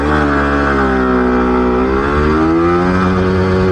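A Yamaha R15M motorcycle accelerates in first gear, its engine note loud and close, a steady buzzing drone whose harmonics rise gradually, with no talk over it.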